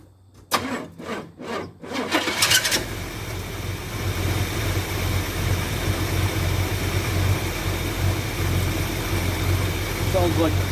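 A square-body truck engine cranks in a few short pulses, catches and settles into a steady, loud, rough idle that continues to the end, with the fuel system being flushed after a gas tank clean-out.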